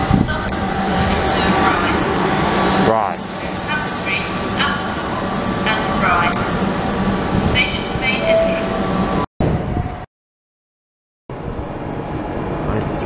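Southeastern Class 375 unit 375705 coupled with 377516 at Ashford International, bound for London Charing Cross, running loud and close with a steady rumble and hum, then cutting to a brief silence before resuming; a voice is heard over it.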